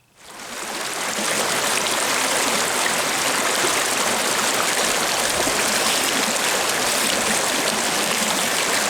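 A river stream flows in a steady, dense rush of water that swells up within the first second and then holds constant and close, with no voices.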